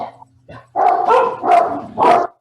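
A nearby dog barks several times in loud, uneven bursts, with short gaps between the barks.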